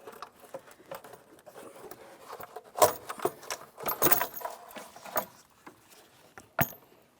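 Valve cover on a 2015-2025 Ford Transit 250 being pried and lifted away from the VVT solenoids, giving scattered metallic clinks, scrapes and jangling rattles, with louder clanks near the middle and a final sharp knock.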